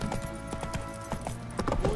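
Horse hooves clip-clopping at a steady walking rhythm in The Witcher 3 game, mixed with game music and ambient sound, with a brief voice heard faintly.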